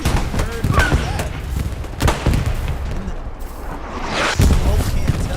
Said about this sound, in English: Artillery just blowing bodies up.